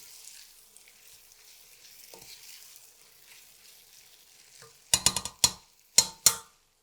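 Beef shin browns in a Kuhn Rikon Duromatic pressure cooker with a soft, steady sizzle, followed near the end by several sharp metallic clanks and scrapes of stirring in the pot.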